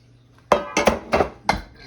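Metal cake pans being handled in a home kitchen: four or five sharp clanks and clinks close by as the pans are picked up and knocked together, with quiet between.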